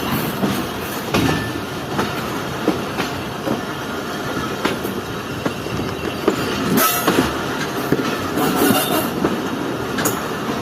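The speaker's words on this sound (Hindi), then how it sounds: "तो ट्रेन डाउन लूप लाइन से मेन लाइन में चढ़ रही है इस वक्त।" The Jaffer Express passenger train rolls from a loop line onto the main line, heard from on board as a continuous rumble with repeated wheel clacks over track joints and occasional squeals.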